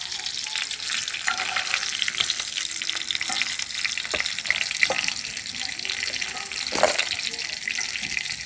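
Chicken pakoda crackles as it deep-fries in hot oil, a steady bubbling sizzle with scattered clinks and scrapes of a utensil, fairly close.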